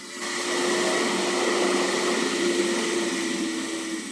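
A Wagner Pro 250R paint sprayer sprays paint onto a container home, a steady close hiss-and-whine with a constant motor drone that rises quickly and holds for a few seconds.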